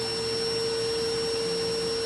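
A vacuum connected to a top hat baffle draws sawdust through it, a loud, constant close-range suction roar with a steady tonal whine, heard alone.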